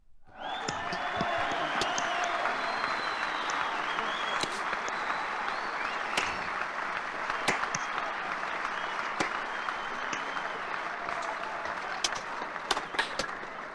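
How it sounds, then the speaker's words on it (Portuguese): Sustained applause fills a medical school graduation ceremony, a continuous, even roar of many hands clapping that starts abruptly and holds steady with occasional sharper claps. "E esses aplausos são para vocês."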